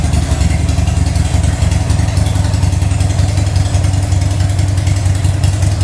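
A 2005 Buell XB9SX motorcycle engine idles steadily while warming up, a loud, close, continuous low rumble with an even throb and no speech.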